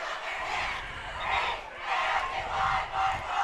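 A crowd at a high school football game between Ste. Genevieve and Dexter makes a steady, moderately loud roar of cheering and shouting that swells and dips, heard from within the stands.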